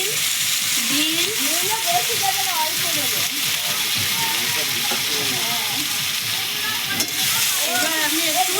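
Chopped onion, potato and flat beans fry in a pan for a fish curry, giving a continuous sizzle and hiss with stirring scrapes. A voice talks over the cooking the whole time.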